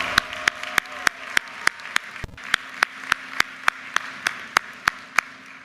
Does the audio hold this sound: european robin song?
no